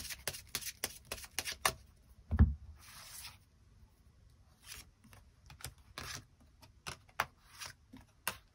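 Tarot cards being drawn and handled on a table give soft, quick taps, slides and rubs in an irregular run, with one heavier thump early on. It is quiet and close, with no one talking.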